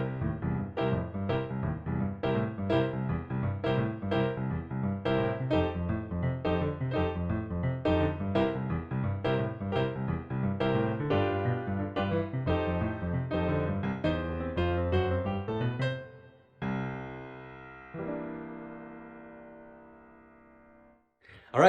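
Boogie woogie piano rolls along with a steady, rhythmic bass pattern and repeated chords, played at an even pace for about sixteen seconds before a final sustained chord rings out and fades.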